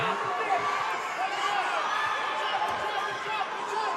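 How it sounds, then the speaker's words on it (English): A crowd at a fight event cheers on fighter Hilário in a steady roar of voices and whoops. The noise stays at a constant level through the final seconds, with a commentator talking over it. "Crowd really cheering on Hilário here in these final seconds"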